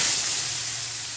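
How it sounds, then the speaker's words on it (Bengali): Eggplant slices frying in hot oil, a soft steady hiss and sizzle close by, fading slightly as it goes, alone without talk. "আমি এখানে বেগুনগুলো ভাজছি।"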